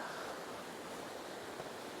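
A continuous soft rush of flowing water, steady and even with no pauses, a small stream running close by along a mountain trail in Taroko, Hualien.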